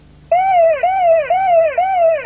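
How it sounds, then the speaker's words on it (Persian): A car's in-gear warning alarm sounds as a loud, near electronic two-tone wail that starts abruptly and repeats in steady cycles of roughly half a second, with no talk over it. "آژیر میزنه، اطلاع میده که مثلا الان ماشین توی دنده هست."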